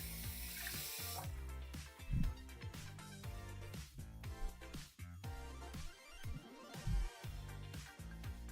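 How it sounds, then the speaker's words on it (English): Water runs into a sink as a dish is rinsed and its inside quickly cleaned, the steady tap flow broken by clunks and splashes of handling throughout. "I'm going to give it a rinse off and quick clean on the inside"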